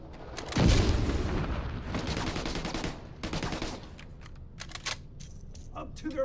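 Gunfire and bursts of shooting in The Division 2, with a loud blast near the start followed by repeated shots and scattered cracks at mid distance, against a busy combat background.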